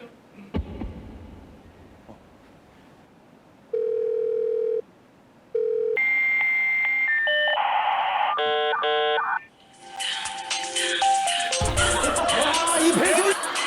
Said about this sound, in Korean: 이 벨소리.